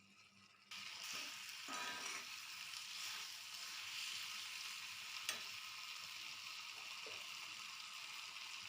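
Water splashes into a hot pan of okra (bhendi) curry whose yogurt has cooked dry, and a loud, steady sizzle suddenly swells and keeps hissing with a few faint clinks.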